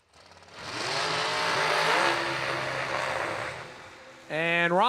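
A dragster launches at a New Year Nationals drag race, its engine roaring up loud and holding for a few seconds before fading, then a second sharp rising engine burst cuts in at the end, with a commentator speaking over it.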